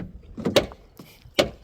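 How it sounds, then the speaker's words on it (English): Worn door check strap on a scruffy Nissan Qashqai giving two sharp clicks about a second apart as the car door swings, close and dry with quiet rustling between. "Door check straps on both sides, they need doing."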